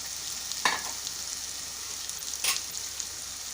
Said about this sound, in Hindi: अब इसको मिक्स कर देंगे।